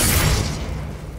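Bombarda blasting spell exploding in Hogwarts Legacy, a loud close boom with a broad burst that fades out over about a second.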